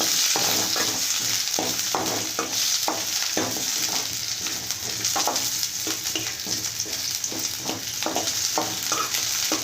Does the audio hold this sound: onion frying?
yes